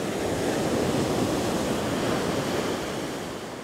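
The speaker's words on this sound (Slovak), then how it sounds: "A tie vlny." Ocean waves roll onto a beach at Indurawa, Sri Lanka, a loud, steady surf roar that eases slightly toward the end, with no voices.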